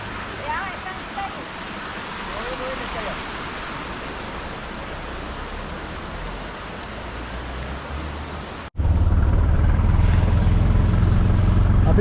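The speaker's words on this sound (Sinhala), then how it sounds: "හොඳටම වහිනවා." Heavy rain on a cold, windy day on the way to Kuragala temple near Balangoda: a dense, steady hiss that cuts into a louder, rougher downpour near the end.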